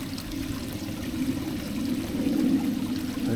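Water pours steadily from a koi pond filter shower into the pond outdoors, a continuous mid-loud rushing splash with no pause and no voices.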